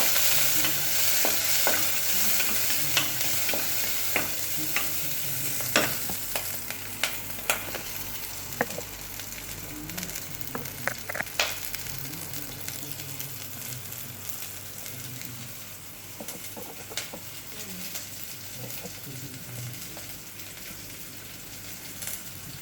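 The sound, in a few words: onion frying and being stirred in pot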